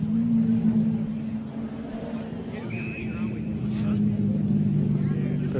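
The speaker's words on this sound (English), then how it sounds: "But a few cars in the background you'll hear." Road traffic rumbles steadily in the background at a charity legends football match, with a continuous low engine drone and a car passing that rises slightly toward the end, running under the live commentary.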